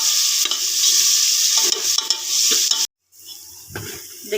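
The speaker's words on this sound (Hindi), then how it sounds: "और बस फिर हम इसमें पानी डाल देंगे।" Onions with garlic-ginger paste hiss and sizzle loudly in a hot pan while being stirred, then water pours in, cutting off the sizzle into a brief hush before soft bubbling returns, close and without talk.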